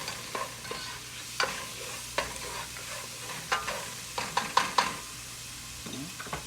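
Garlic sautéing in a pan for fried rice, with a steady low sizzle broken by repeated scraping, stirring knocks of a utensil against the pan, clustering near the end.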